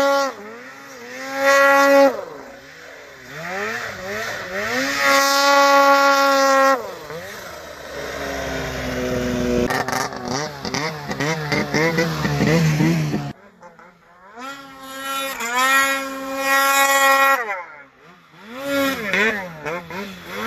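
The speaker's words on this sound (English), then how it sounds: "Your exhaust is pretty loud, buddy." Snowmobile with a loud exhaust riding down a mountain in Revelstoke, its engine rising and falling in pitch through repeated revs and throttle changes, close and loud, with brief quieter gaps between runs.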